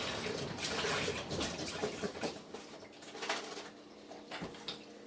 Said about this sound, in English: I'm going to take my vegetable stock, 32 ounces. Going to go ahead and pour that in here while it's on low.